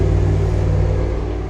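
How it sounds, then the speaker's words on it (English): A truck speeds past on a dirt road. Its loud, close engine rumble stays broad and steady, then eases off slightly toward the end, with no voices. "I don't know if they heard that truck"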